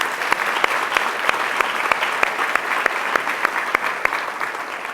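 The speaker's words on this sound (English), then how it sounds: "So another applause for Susan Arnold." Audience applause at a community Celebration of Women event, a steady wash of many hands clapping with sharper individual claps standing out, sustained and fairly loud throughout.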